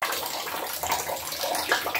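Shower water runs steadily and close by while someone washes their hair, a continuous broad hiss of spray with small splashy shifts throughout and no talking.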